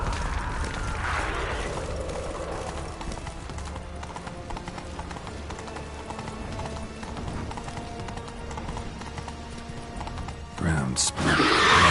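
Horse hooves clip-clop at a steady gallop through a Witcher 3 game scene, with an occasional whinny, under a constant wash of music and ambience, rising into a louder burst near the end.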